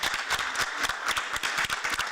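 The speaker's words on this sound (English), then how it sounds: "A round of applause to all of you" An audience applauds delegates at the 44th ACERWC Ordinary Session with a steady, dense patter of many hands clapping, moderately loud and continuous, with no voices on top.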